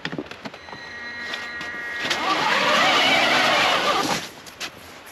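A 4x4 off-road vehicle on snow at night revs hard in one long surging burst. Sharp clicks and clunks come before it, and the engine falls back to quieter knocks afterward.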